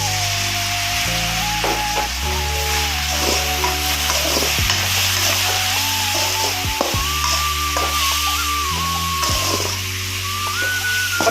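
Chicken fried rice with sauce is stirred and fried in a pan, giving a steady loud sizzle with repeated scraping and clanking of the spatula against the pan throughout.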